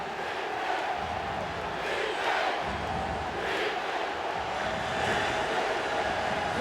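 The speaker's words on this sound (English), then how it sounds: "Crowd getting into it and making a lot of noise." Stadium crowd at a 2002 Auburn versus Ole Miss college football game roars in a sustained, swelling din, loud and constant with surges of cheering.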